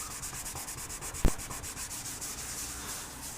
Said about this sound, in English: scrub with a sponge